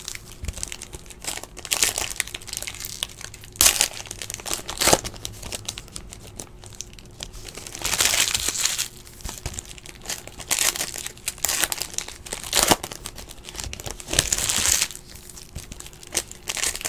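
A box of 2017 Panini Certified Cuts football trading cards being opened, with close crinkling and tearing of wrapper and cardboard in repeated bursts, no talking over it.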